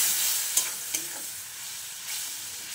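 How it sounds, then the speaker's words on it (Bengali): Spice masala cooked down with a little water in a pan, with okra in the dish, gives a soft continuous sizzling hiss and a couple of light spoon clicks as it is stirred. "জলটা এর মধ্যে দিয়ে মশলাটাকে কষিয়ে নিচ্ছি"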